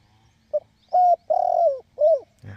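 A dove coos alone in a short series of soft, hollow, rounded notes, close by, with quiet pauses between them.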